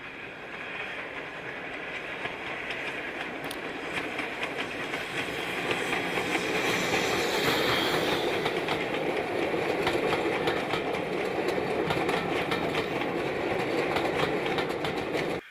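A train in LNWR livery climbs away from Loughborough, a steady loud rolling rumble with rhythmic clickety-clack of wheels over rail joints that swells as it passes close, with no talk.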